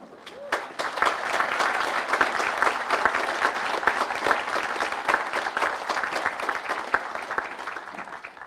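Sustained applause fills a university graduation ceremony hall, a dense steady patter of many hands clapping for several seconds, fairly close and even in loudness, with a murmur of voices underneath.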